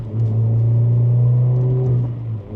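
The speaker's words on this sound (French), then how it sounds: "d'entendre le moteur chanter dans les tours, c'est incroyable" A naturally aspirated car engine revs up and holds a high, droning pitch for a couple of seconds before easing off, close and loud.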